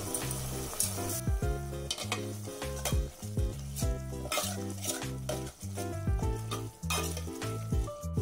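Masala with fried onions frying on a low flame in a pan for restaurant-style egg biryani, stirred steadily with a utensil that scrapes and clinks against the metal, under a continuous close sizzle with rhythmic stirring strokes throughout.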